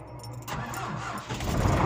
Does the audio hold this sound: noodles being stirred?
no